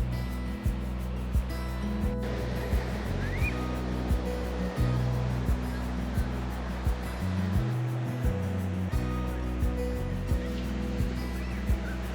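Ocean waves wash steadily along a seaside shore near Ensenada, Mexico, a soft continuous surf heard faintly and alone, with a low engine-like hum underneath.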